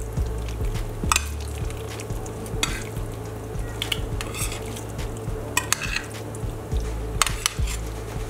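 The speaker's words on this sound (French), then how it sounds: "je mélange le tout" Cold sauce stuffing being mixed in a bowl, heard as a steady run of wet stirring and scraping with occasional sharp clinks of a utensil against the dish, close and moderately loud.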